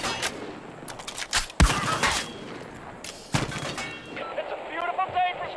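Gunfire from aerial strafing in the video game Far Cry 5 comes in sharp bursts and heavy cracks amid rushing wind, and a voice talks over the shooting.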